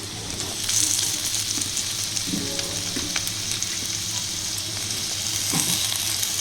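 Fish roe fried with cut potatoes in a kadai, giving a steady, close oil sizzle that holds throughout, with a few soft clatters of the pan partway through; no one speaks.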